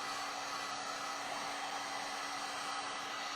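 Steady, close whooshing roar of a hair dryer running at constant strength, with a faint hum underneath and no talking.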